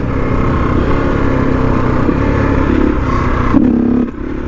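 A Husqvarna SMR 510 supermoto engine drones loudly and close during a one-handed wheelie attempt, with a brief higher rev near the end before the sound drops off sharply.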